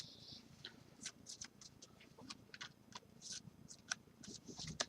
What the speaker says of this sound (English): So we take the cards again, we give them a shuffle up, give them a good old mix